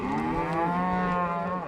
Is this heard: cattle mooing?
yes